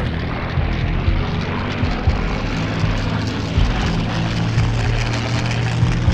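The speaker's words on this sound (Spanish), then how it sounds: "¡Se aproximan aviones enemigos!" Propeller aircraft engines in the video game Combat Wings roar in a dense, continuous drone with a pulsing low rumble, loud and unbroken throughout.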